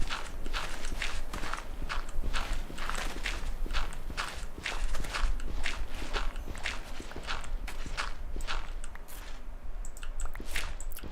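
Horse hooves clip-clop in a Minecraft-style video game world, a brisk, steady run of crisp, near hoof clops lasting several seconds, with no talk over them.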